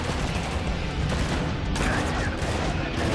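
Dense, continuous gunfire fills a co-op firefight in the video game Spec Ops: The Line, with rapid overlapping automatic bursts and booms, loud and close, with some voices underneath.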